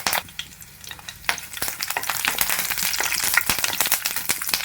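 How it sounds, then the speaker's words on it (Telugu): Crushed shallots, dried red chillies and curry leaves sizzle and crackle in hot oil while being stirred, a close, dense frying hiss with sharp pops throughout. "నూనె అనేది వేడైన తర్వాత 5-6 రెబ్బలు దంచుకున్న చిన్నులపాయలు అయితే వేసుకోవాలి. ఇప్పుడు ఇందులోకి 3 ఎండుమిరపకాయలు, అలాగే కాస్త కరివేపాకు కూడా వేసుకోవాలి."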